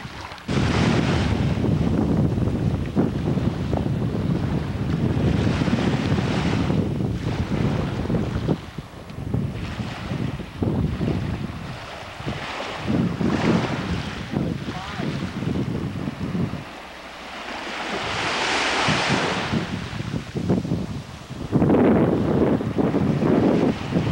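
Strong wind on a Baja California beach buffets the microphone in loud gusts, with a rushing, surf-like roar rising and falling throughout.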